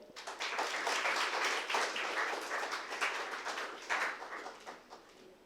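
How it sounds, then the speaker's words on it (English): An audience at an international life sciences conference applauds to welcome a speaker, with dense, sustained clapping at steady volume throughout and no voices over it. "So in a round of applause, please welcome Professor Dr. Ralph Herwig."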